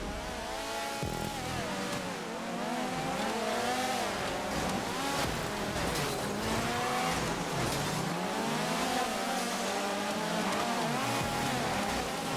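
An Obey Omnis race car in GTA 5 roars steadily around a track, its engine note rising and falling through repeated gear changes and revs, loud and continuous with no pauses.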